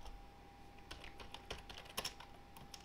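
Faint, close computer keyboard typing with irregular clicks and a few sharper key taps, set against a steady low hum during a Minecraft command block session.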